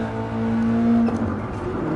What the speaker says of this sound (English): Might have over revved on that downshift.